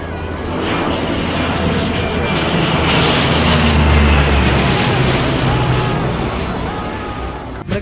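Rescue aircraft fly low over a snowy mountain crash site, a loud sustained engine roar that swells to a peak and slowly fades, filling the whole span.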